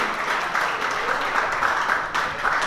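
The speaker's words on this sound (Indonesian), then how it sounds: "beri tepuk tangan yang meriah untuk semua peserta pada malam hari ini" Audience applause for all participants at an evening Bapang Barong and makendang competition awards night in Denpasar: a dense, steady wash of many hands clapping together, loud and continuous throughout.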